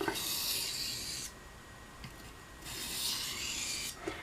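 Gunstock bone knife being sharpened on water stones, heard as close, soft rasping strokes in a slow back-and-forth rhythm, with pauses between passes.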